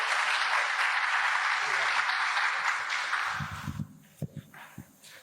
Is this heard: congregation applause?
yes